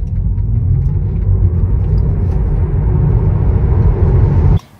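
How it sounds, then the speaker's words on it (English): Tesla Model 3 electric car driving hard under acceleration gives off a steady low rumble of road and tyre noise with a faint whine, quite even and fairly loud, with no engine roar, ending in a sudden cut. "So if you're wondering what the Tesla sounds like, this is what it sounds like"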